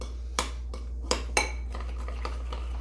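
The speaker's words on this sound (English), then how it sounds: "I like using a spoon with this because you can smash down the lumps as you go." A spoon clanks against a bowl while mixing brown sugar and smashing lumps, a few distinct knocks early on followed by softer scraping taps over a steady low hum.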